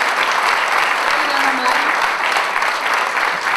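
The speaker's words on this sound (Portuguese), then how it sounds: "ele merece palmas ao nosso professor." Loud, dense applause for a teacher at an adaptive athletics and sports gala, continuous close clapping throughout with faint voices underneath.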